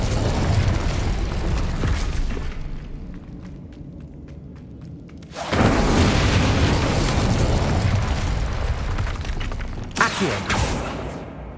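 The Incendio fire spell in Hogwarts Legacy erupts in loud, roaring bursts of flame and impact. A long blast fades into quieter rumbling, then a second sustained burst follows, with a sharp flare near the end.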